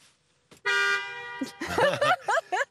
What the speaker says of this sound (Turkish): Bir sesini duyalım mı kornanın?